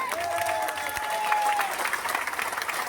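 Seminar attendees in Faridabad clap together, a steady, fairly close round of applause with a faint sustained tone audible in the first half.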